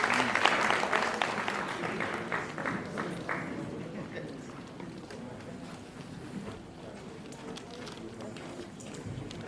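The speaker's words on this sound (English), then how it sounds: "let's give a round of applause" Audience applause at a senior high school pitch deck event, loud and dense at first, then tapering into thinner scattered clapping over about nine seconds.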